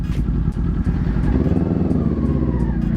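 Kawasaki Ninja 400 twin-cylinder motorcycle engine roaring steadily and loud, with a dense low rumble, a few quick gear-shift dips and sustained acceleration, no talking.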